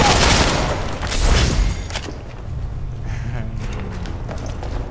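A few loud, close gunshots crack in Ghost Recon Online during sniper testing, two strong bursts in the first two seconds followed by quieter game ambience with faint trailing noise.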